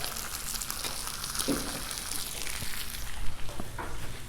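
Breakfast slider bread cooking on a Blackstone griddle, a steady close sizzle and fry with a few faint scrapes and clicks, no talking.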